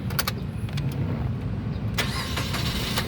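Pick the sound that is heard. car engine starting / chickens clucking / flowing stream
car engine starting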